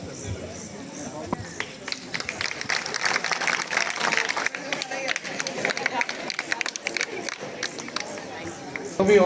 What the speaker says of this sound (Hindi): बेहतरीन इंग्लिश बार जोरदार तालियां हो जाए